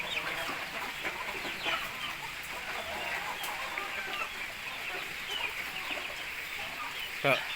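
Chickens cluck softly while being fed rice during an evening routine in drizzling rain, faint scattered calls over a constant hiss of background noise, with a brief sharper sound near the end.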